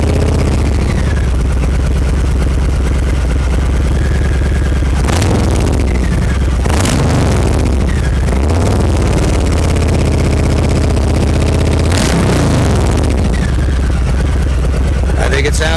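A 2020 Harley-Davidson Low Rider S fitted with TAB Performance slip-on mufflers fires up and settles into a loud, steady, deep rumbling idle close by, with a few sharp throttle blips punctuating the run.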